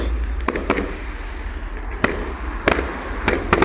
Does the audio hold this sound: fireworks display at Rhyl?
yes